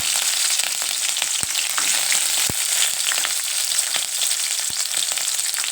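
Chillies sizzling in hot oil for an avalakki (beaten rice) tempering, a loud steady close-up hiss with a few sharp pops and crackles scattered through it.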